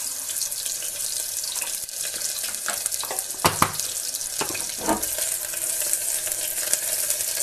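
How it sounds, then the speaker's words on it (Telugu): Chopped onions and tempering spices sizzle in hot oil for rasam, a dense, steady frying hiss close to the pan, broken by a few louder crackles and stirring clatters. "మనకు ఆయిల్ హీట్ ఎక్కింది. ఉల్లిపాయలు, కట్ చేసుకున్న ఉల్లిపాయలు, తర్వాత పోపు దినుసులు,"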